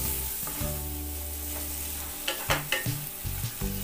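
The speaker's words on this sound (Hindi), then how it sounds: "अब हम इसमें डाल देंगे टमाटर बारीक कटा हुआ, टमाटर को हल्का नरम होने देंगे।" Finely chopped tomatoes sizzle in lightly fried masala in a pan for restaurant-style aloo methi, a steady frying hiss with a few louder stirring scrapes and bursts near the end, no voices.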